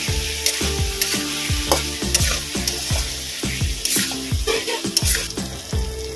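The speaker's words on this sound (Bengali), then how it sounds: "মশলাটা একটু কষিয়ে নেব।" Ginger paste with ground cumin and coriander sizzles in hot oil while being stirred in a pan, a continuous crackling fry with scraping stirs and soft background music underneath.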